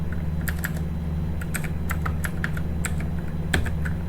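Rapid keystrokes on a computer keyboard as an IP address is entered into network settings, a run of crisp clicks with brief pauses over a constant low electrical hum, close and clear.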